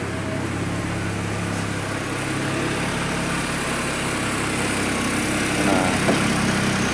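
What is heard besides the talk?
GM vehicle engine idling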